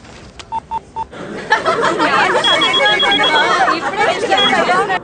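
Several short keypad tones as a telephone number is dialed on a phone, followed by continuous overlapping talk and laughter-like voices close by.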